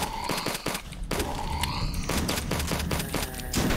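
Enemy gunfire in the shooter HROT, a rapid loud fusillade of close sharp shots in quick bursts, with overlapping reports and a dense, continuous clatter.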